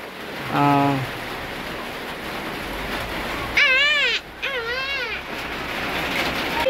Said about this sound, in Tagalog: malakas po yung ulan guys